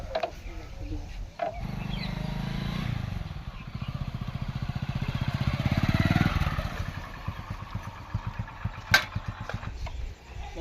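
A motorcycle engine runs close by, a steady low rumble that revs up and then settles into a throbbing idle, with a clunk near the end.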